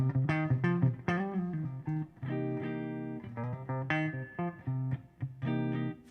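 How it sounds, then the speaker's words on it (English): Electric guitar with a Fluence pickup switched to its second voice, played through a Koch amp: a clean, full-bodied melodic run of plucked notes and chords with an archtop-like tone, close and steady, without talk. "If I pop this up, it's the second voice of the pickups."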